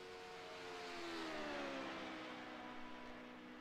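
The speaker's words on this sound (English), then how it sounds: "we see cars putting down their open qualifying laps here at Daytona" Sports race cars on qualifying laps at the Daytona road course make a faint, distant engine drone, with pitch gliding downward as a car passes.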